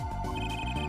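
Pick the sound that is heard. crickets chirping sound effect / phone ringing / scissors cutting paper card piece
phone ringing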